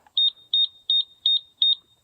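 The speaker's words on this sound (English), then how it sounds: "It'll just keep beeping, 5 beeps and blinking the light." Five evenly spaced high-pitched electronic beeps from a Coop Controls automatic coop door opener control board that won't cycle, each a quick double chirp, clear and close with silence between.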